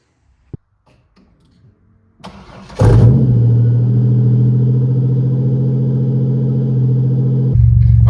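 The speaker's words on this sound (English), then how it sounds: "We're gonna fire it up, address what it needs, and take you guys along for a little ride." A Pontiac Fiero with a swapped 3.8 V6 cranks briefly, then the engine catches with a loud roar and settles into a steady, rumbling idle close by, rising slightly again at the end.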